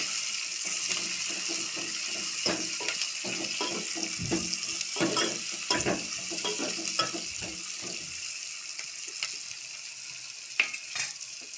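Oil sizzling and frying in a pan while making egg curry, a steady bright hiss throughout with scattered stirring clicks and scrapes close by, no talking.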